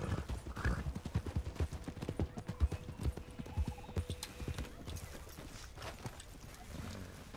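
Rhythmic hoofbeats clip-clop at a steady trot, fairly close, with scattered clatter and a faint neigh in the mix, from a horse in the video game Red Dead Redemption 2.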